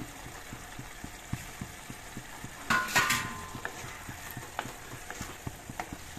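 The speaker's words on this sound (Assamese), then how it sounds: "ইয়াতে এতিয়া ফ্ৰাই কৰি থোৱা মাছখিনি দি দিম পিচকৈ দি দিলোঁ মাছখিনি" Fried fish pieces drop into a pot of simmering cabbage curry in a pressure cooker, a brief burst of sizzle and clatter near the middle amid steady faint bubbling and light ticks of a utensil.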